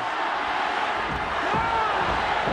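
A loud, continuous roar from a big arena crowd at a Pride FC fight, Ogawa versus Satake, with the cheering holding steady as a thick wall of voices.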